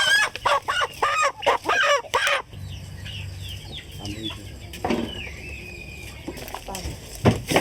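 Chickens cluck and a rooster crows at a family home in Laos, with loud, close clucking bursts at first, then a lower background of hens and a drawn-out crow, with no voices.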